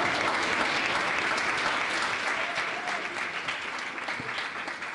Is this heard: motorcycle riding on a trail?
no